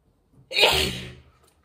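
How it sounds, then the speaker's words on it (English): A single sharp, close sneeze, a quick burst that trails off after about half a second, with near silence around it. "Let me sneeze for a second."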